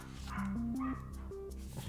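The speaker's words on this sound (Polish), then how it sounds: "Coś, jakiś pies mi tu jeszcze czeka." A dog gives a short run of high, nasal whines and yips close by, the pitch stepping upward across the cries, with no one talking.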